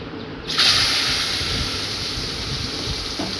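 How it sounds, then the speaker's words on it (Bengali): Potatoes seasoned with salt and turmeric fry in hot oil, giving a loud, steady sizzling hiss that surges sharply after half a second and then holds close and continuous. "দিয়ে আলুগুলিকে লাল লাল করে ভেজে নেব"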